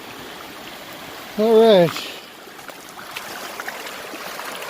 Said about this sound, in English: Water's draining out of the concentrates.